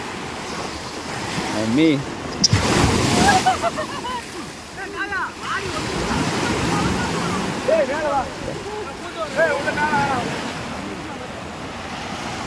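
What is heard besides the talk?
sea waves at Chennai Marina beach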